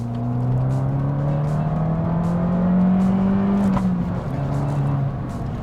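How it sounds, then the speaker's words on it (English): A 2019 Fiat 500 Abarth's exhaust drones and revs steadily, pitch rising then dropping as it shifts, loud and close inside a garage. "probably my favorite thing is the way that it sounds. The exhaust is awesome."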